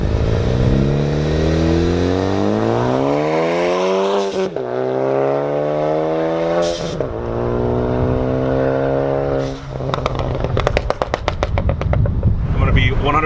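A loud Ford Focus ST engine revs and its exhaust roars with rising and falling pitch, followed by sharp popping crackles, close by.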